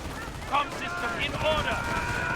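Rifle fire in the video game Company of Heroes 1 pops and crackles amid a busy battle, with riflemen engaged from a house. Someone commentates over the shots.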